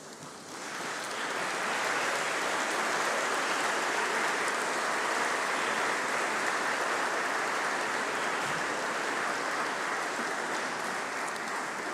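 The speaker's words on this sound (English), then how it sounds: "give a huge round of applause to your family, your friends, and to your teachers" A large graduation congregation audience in a great hall applauds family, friends and teachers, giving a sustained, dense wash of clapping that sets in within the first second and holds steady and loud throughout.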